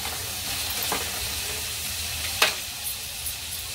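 Cardamom and fennel seeds for butter chicken are stirred into hot oil, giving a continuous close sizzle with a few sharp spoon taps and scrapes against the pan and no talking.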